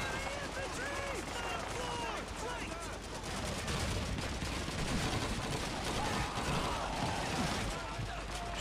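Dense, continuous gunfire from a World War II battle in the video game Call of Duty 2, a steady barrage of overlapping shots filling the clip, with voices talking over it.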